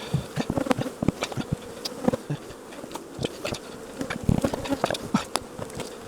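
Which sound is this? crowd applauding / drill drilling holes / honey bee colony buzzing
honey bee colony buzzing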